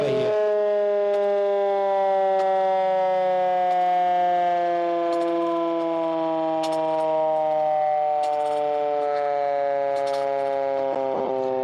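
A civil defense siren machine wails during a mock drill, one long sustained rising-and-falling tone that stays loud and close throughout, with faint background voices.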